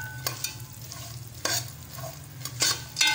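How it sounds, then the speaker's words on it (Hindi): Nuts roasting in desi ghee in a pan for gond laddu, stirred over low heat: a soft continuous sizzle with about four sharp scraping strokes of the spoon across the pan, close up and without voices. "इसको हल्का हल्का सा ना रोस्ट करना है"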